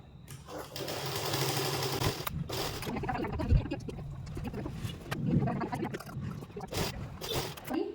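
A domestic sewing machine stitches pieces of a twelve-panel (kali) palazzo together two at a time, running in steady bursts with brief pauses, close and fairly loud, while someone talks intermittently over it.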